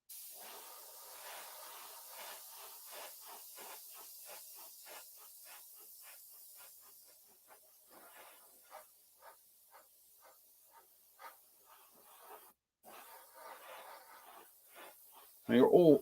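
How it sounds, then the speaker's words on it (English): A Fender airbrush spraying lacquer paint at low pressure gives a series of short, soft hissing bursts in a steady rhythm, close and fairly quiet, ending with a louder sound. "you're doing some spraying here with lacquer paints"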